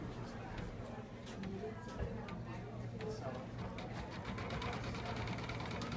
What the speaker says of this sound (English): So let's go ahead and start our machine.